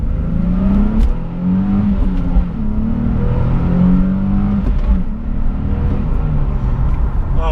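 A sports car's engine revs and hums as the car is driven, with gear shifts and rev-matching rises in pitch. The sound is loud and steady from inside the car.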